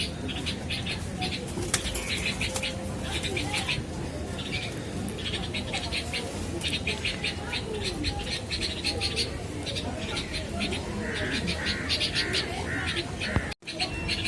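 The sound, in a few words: pigeons cooing and flapping wings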